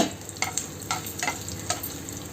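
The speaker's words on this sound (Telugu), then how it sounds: "కొద్దిగా ఆయిల్ పోసుకుందాం. వెల్లుల్లిపాయలు, తాలింపులు, ధనియాలు ముందు వేసుకుందాం." Garlic, coriander seeds and tempering spices fry in a little hot oil with a continuous crackling sizzle, broken by a few quick stirring scrapes close by.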